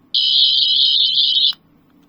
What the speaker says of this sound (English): the sound is incredibly loud, but it has a green setting